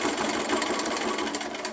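A sewing machine stitches binding onto a quilt edge, a steady rapid whirring close by, running alone.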